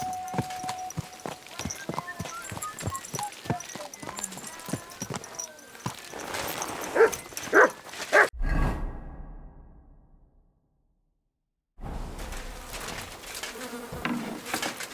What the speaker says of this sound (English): oh, beautiful horse.